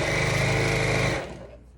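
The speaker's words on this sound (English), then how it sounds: "I'm literally going to sew right over where that button was" A sewing machine stitches over fabric on a simple memory pillow, right across a former button spot, a loud, steady, close whirring run that cuts off abruptly near the end.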